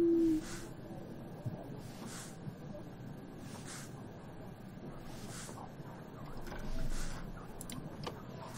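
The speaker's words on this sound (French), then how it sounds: "Ah si, on a un pigeon." A pigeon coos in the Yes Your Grace video game, soft repeated calls at a steady rhythm over a low ambient game background, with no clear speech.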